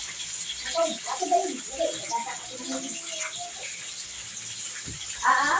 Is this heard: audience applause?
no